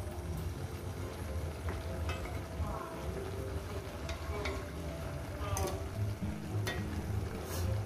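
Fish heads hit a hot pan for Bengali chorchori, a mixed vegetable dish, giving a steady close sizzle and frying hiss with occasional scrapes and clinks of stirring. No voice is heard.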